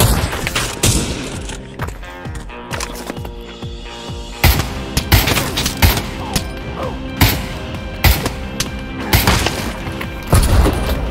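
Gunfire rings out in the VR shooter Pavlov VR, sharp loud shots in irregular bursts, some rapid and clustered, others spaced apart, with heavy thumps and booms mixed in.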